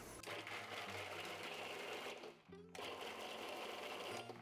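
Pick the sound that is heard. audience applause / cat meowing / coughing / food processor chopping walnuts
food processor chopping walnuts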